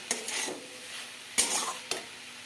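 A spoon scrapes and stirs papaya with sugar in a hot pan, three distinct scraping strokes over a soft background sizzle, close and fairly loud.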